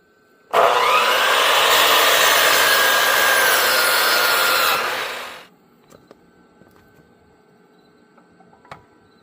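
A wooden fence post for a privacy fence around a pool pump enclosure is sawn through in one steady, loud, continuous stroke lasting about five seconds, then stops abruptly, leaving faint scattered clicks and taps.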